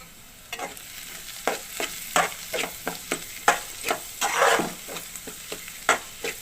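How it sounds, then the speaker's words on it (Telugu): Onion pieces frying with a pinch of salt, stirred in a pan, produce a steady crackling sizzle broken by a series of sharp, rhythmic scraping strokes, close and clear. "ఉల్లిపాయ ముక్కలు కూడా వేగినాయండి. కొంచెం సాల్ట్ వేసి ఒకసారి బాగా కలుపుకొని"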